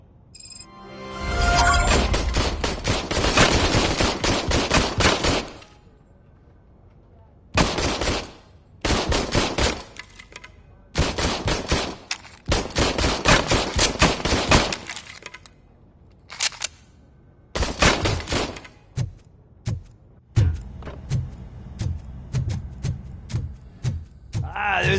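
Bursts of rapid gunfire from RoboCop: Rogue City, sharp repeated shots in several loud clusters separated by short pauses, with low rumbling effects toward the end and no talk.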